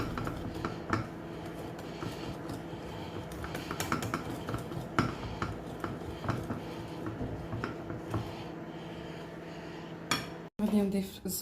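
Cake batter being mixed in a bowl with light flour added, quick irregular clinks and scrapes of a utensil against the bowl, close, with a voice speaking intermittently and a brief clatter near the end.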